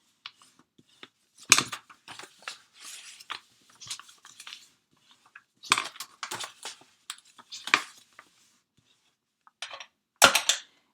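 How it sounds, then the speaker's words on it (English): Bone folder burnishing score lines on a paper envelope: scattered short scraping and tapping strokes, close and fairly quiet, coming in irregular bursts with silent gaps between. "I am going to take my bone folder and really burnish these score lines"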